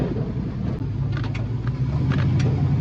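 A 1969 Chevy C10 truck with a 350 engine drives along, a steady low engine rumble and road noise heard from inside the cab, with faint whooshing wind and no talking.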